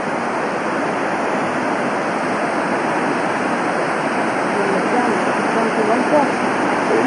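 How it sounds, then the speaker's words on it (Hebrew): A swollen stream rages through a forested wadi in India, a loud, close and unbroken rushing roar of water that holds steady throughout. "על ידינו נחל גואש."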